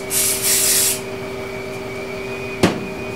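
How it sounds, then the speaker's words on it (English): A short hissing burst of Lucas aerosol parts cleaner spray lasting about a second, followed by a steady hum and a single sharp knock. "That's a good old Lucas parts cleaner."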